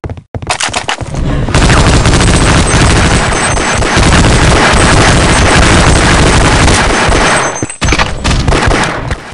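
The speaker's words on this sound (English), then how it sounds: "this really is one of the most satisfying machine guns in any, like, FPS I've ever played" A machine gun in Half-Life deathmatch fires in one long, dense, loud burst, starting after a few opening shots and cutting out briefly near the end before the firing resumes, with no talking.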